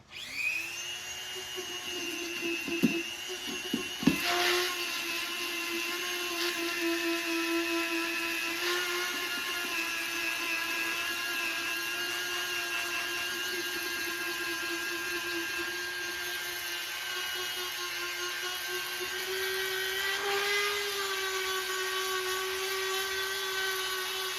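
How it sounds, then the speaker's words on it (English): A high-pitched Dremel rotary tool with a buffing wheel whines steadily at a constant speed, with brief bumps as it touches a surface, loud and close. "Using a Dremel tool and a buffing wheel like that, I'm going to get rid of this stuff"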